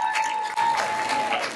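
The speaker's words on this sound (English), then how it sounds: "Can we give them another round of applause?" A crowd at an outdoor mural unveiling claps steadily, a brief burst of applause with no voices standing out.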